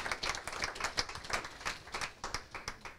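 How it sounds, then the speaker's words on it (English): Applause from a small audience at a crypto talk, a handful of people clapping in quick, distinct, rhythmic bursts, fairly faint and close, with no voices over it. "Big round of applause."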